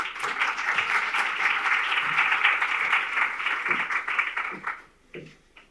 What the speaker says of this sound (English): we do have to give another round of applause to Sonia